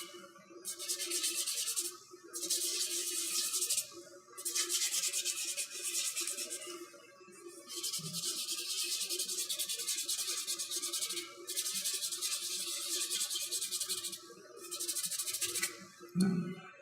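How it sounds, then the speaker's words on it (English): Epoxy filler being sanded by hand, rhythmic back-and-forth rasping strokes in long bursts separated by short pauses, close and clear with no talk. "In this case, sand a buttload of epoxy filler down."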